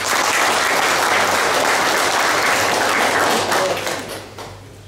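Loud, dense applause from a crowd at a patriotic congress in Braniewo, Poland, sustained steadily for about four seconds before tapering off toward the end.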